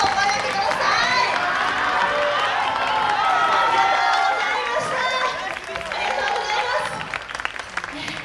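Loud, sustained applause and cheering from a large outdoor crowd after a YOSAKOI dance performance at the YOSAKOI Sansa festival in Odori, a dense wash of clapping with shouts mixed in.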